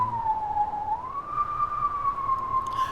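A howling stone in the video game Zelda Twilight Princess gives out a steady, wavering tone that rises slightly in pitch and holds for several seconds, heard alone with no talk.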